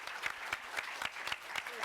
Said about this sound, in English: could we please have a warm round of applause for Craig Condella, Debra, Jayme Hennessy